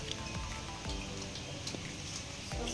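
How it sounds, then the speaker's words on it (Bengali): Heavy rain pours down in a steady, loud broadband hiss, with scattered nearer drips and splashes standing out over the constant downpour. "দেখো কি জোরে বৃষ্টি আসছে।"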